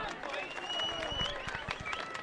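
Crowd at a hurling final, a Junior B All Ireland final replay, cheering and clapping after a score, a sustained noisy roar with scattered claps and a commentator's voice over it.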